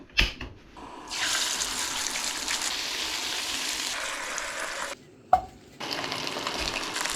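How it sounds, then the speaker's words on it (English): Back steak fries in beef fat and butter at a remote camp, a loud, steady hissing sizzle that drops out briefly twice, with a short clunk between the stretches. "Get a bit of back steak going."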